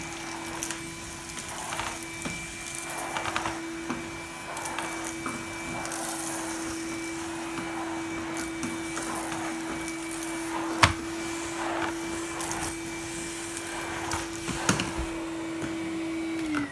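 A Henry Cordless vacuum cleaner runs on its low setting, giving a steady, quiet motor hum with a faint tonal whine, plus soft rustling and light scraping as the nozzle passes over dirt.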